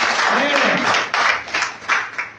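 Congregation applause at a Spanish-language Bible study service, a broad steady wash of many hands clapping with a few louder bursts toward the end, with a voice faintly mixed in.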